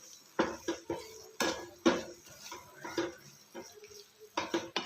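A spoon stirs grated papaya and sugar in a pan, giving irregular close clinks and scrapes of metal on the pan with short pauses between strokes.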